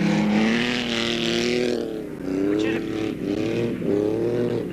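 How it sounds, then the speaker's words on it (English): Race cars circle a dirt track at Round Lake, their engines roaring loudly and continuously with rising and falling pitch as they pass close by. "Standing out here, you still have to keep your eyes open because these cars will slide around."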